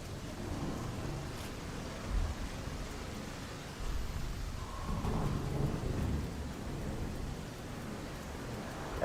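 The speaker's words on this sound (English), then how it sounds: "That was a really realistic sounding thunder." Thunder rumbling inside the video game Dark Souls Archthrones, a deep rolling storm with heavy rain noise throughout and swells of rumble around two and four seconds, sounding close and realistic, with no talking.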